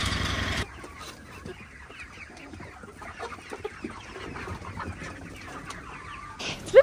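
Young farm chicks and fowl cluck and chirp softly in a pen, a busy scatter of small calls throughout, moderately close, with a brief louder burst at the start and end.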